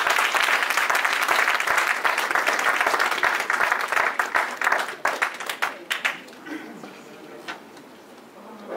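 Applause from an audience at an investiture ceremony for a bankers' association president and council, a full dense round that thins into scattered individual claps and tapers off toward the end.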